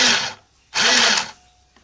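Sewing machine running a few stitches: two short, loud mechanical bursts of whirring separated by a brief pause, close by.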